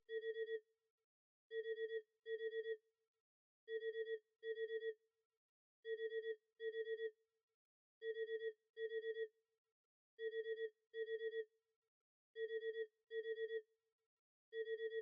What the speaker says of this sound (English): the fact that the phone is ringing throughout all of this is really haunting